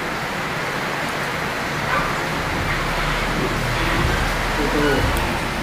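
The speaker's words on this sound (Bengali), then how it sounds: "বাইরে প্রচুর বৃষ্টি হচ্ছে।" Heavy rain falls outside in Gangtok, a dense steady hiss that continues throughout, with low rumbling underneath and occasional muffled sounds in the background.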